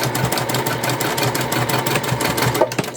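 Domestic sewing machine stitching a quilted fabric basket, running in a steady continuous whir with a regular rapid needle rhythm throughout, close and fairly loud with no voices.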